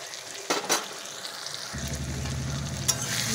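Ginger-garlic, onion and raw cumin pastes hit hot oil with softening tomato for a chicken and eggplant curry, and a steady close sizzle jumps louder once the pastes go in, with spoon scrapes of stirring and no talk.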